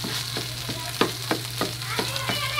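Five hotdogs sizzle and fry in a pan for sisig, a steady close crackle broken by regular scraping stirs about every third of a second.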